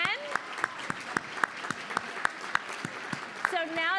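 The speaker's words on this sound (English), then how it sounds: "give yourselves a round of applause" An audience at a charity fashion show claps in a sparse, evenly spaced rhythm with overlapping voices, moderately close.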